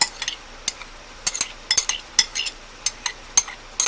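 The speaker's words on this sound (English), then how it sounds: "I'm just going to use a spoon to get it all mixed together" A spoon folds cucumbers into a whipped, fluffy sandwich filling in a bowl, giving a string of light clinks and scrapes against the dish at an irregular pace, close and fairly quiet, with no talking.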